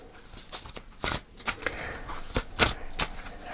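Tarot cards are shuffled by hand in a close, dry riffling patter of irregular papery bursts and slaps with no one speaking.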